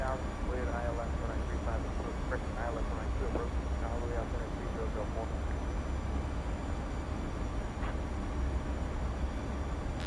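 A PMDG Boeing 737-800 jet on approach to Kahului in the Prepar3D flight simulator, flaps at 30, gives a steady loud engine and airflow roar throughout, while a voice talks over it.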